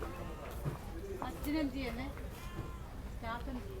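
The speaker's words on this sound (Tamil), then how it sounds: "பூனைக்குட்டி கத்திக்கிட்டு இருக்கு" A kitten mews repeatedly in short rising cries near a backwaters area in Alappuzha, Kerala, heard amid people talking and general outdoor background noise.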